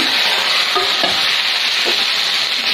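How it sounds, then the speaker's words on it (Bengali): Red chilies, onion and garlic hit hot oil for a tempering, producing a loud, dense, continuous sizzle close up, with a few soft stirring knocks and no voices. "বাগার দিয়ে দিচ্ছি।"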